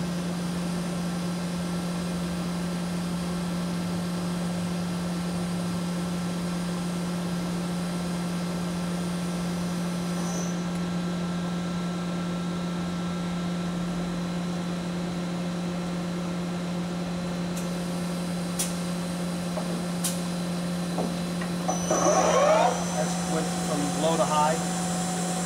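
A KURAKI KBT-11WA five-axis CNC horizontal boring mill spindle turning slowly at 50 RPM in low range, a steady close machine hum with a constant tone, some clattering bursts near the end.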